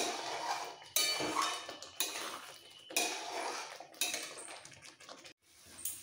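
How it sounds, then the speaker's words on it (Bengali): A utensil stirs a spinach and potato curry (palong alur dom) in a pan. Soft scrapes and clinks come at a steady rhythm of about one per second, close and fairly quiet. "আরো একটু মাখা মাখা হওয়া পর্যন্ত একটু নাড়াচাড়া দিয়ে নিতে হবে।"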